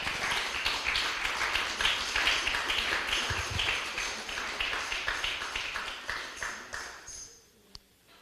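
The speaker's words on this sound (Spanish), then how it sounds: "Denle un fuerte aplauso al Señor." A church congregation claps steadily in a rhythmic, moderately loud burst that fades out toward the end, leaving near silence and a single faint tap.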